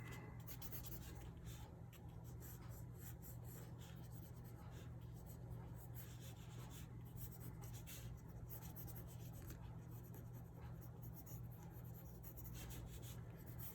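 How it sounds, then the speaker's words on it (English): A pencil rubs steadily across paper while a sketch of simple shapes is refined, a soft continuous scratchy drawing sound, close and quiet over a low background hum. "I go back in and kind of refine the drawing."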